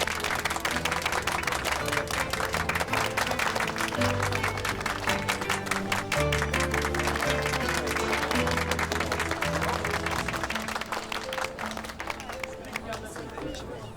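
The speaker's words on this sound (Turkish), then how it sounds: "Alkış." Crowd applause and clapping at a gathering in a period Istanbul drama scene, steady and sustained for the whole stretch over a bed of music.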